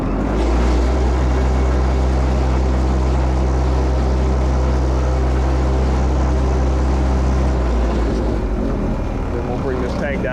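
A hydrovac truck's vibrator runs loud and steady, a heavy droning rumble with machinery noise that carries on through the whole stretch and eases off slightly near the end.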